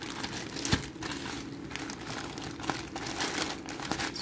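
Plastic packaging of a car dashboard anti-slip mat crinkling as it is handled and opened, with a steady stream of close, rustling crackles and a few sharper crunches, no voices.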